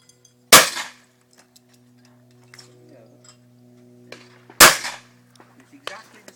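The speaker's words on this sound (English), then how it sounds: "You've seen the target, so we're going to now shoot." Two sharp shotgun blasts fired at a clay target, spaced about four seconds apart, each loud and close with a brief decaying ring over a quiet background hum.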